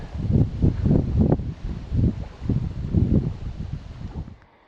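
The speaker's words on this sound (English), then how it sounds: "Not sure if you can hear me through the wind noise" Gusty wind blowing across a lake buffets the microphone in repeated low, rumbling bursts, loud and close, easing off at the end.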